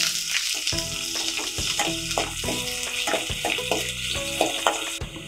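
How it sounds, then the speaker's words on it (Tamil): Finely chopped onion sautés in a hot pan for rasam, sizzling and crackling continuously up close, with occasional stirring clinks and scrapes against the pan and no speech. "வெங்காயம் கொஞ்சம் வதங்கட்டும்."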